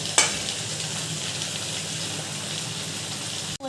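Cauliflower curry sizzles steadily while being sautéed and stirred in a pan with salt and a little turmeric. A near, even frying hiss runs throughout, bracketed by brief utensil clatter at the start and end.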